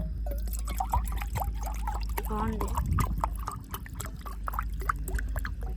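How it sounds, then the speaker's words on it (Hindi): Water from glasses is poured into a cooking pot at a desert campsite, a soft splashing trickle beneath steady nearby conversation and a low hum. "2 गिलास पानी के डालेंगे भाई।"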